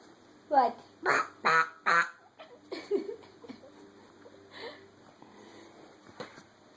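A young child imitates a dirtbike with voiced revving bursts, four loud rhythmic pulses followed by softer sputtering noises, close to the microphone.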